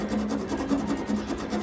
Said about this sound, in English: Just to remove any small burrs. I don't really want to file them down too much